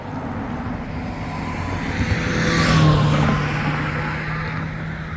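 Traffic on a road with a car speeding past, its rushing noise swelling to a peak near the middle and fading away over steady background road rumble.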